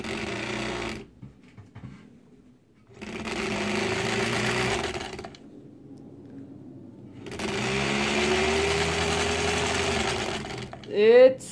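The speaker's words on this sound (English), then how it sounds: "I think I'll just start stitching like here." A sewing machine stitching a quilt runs in three steady whirring bursts separated by pauses, close and fairly loud, with a short higher whine at the end.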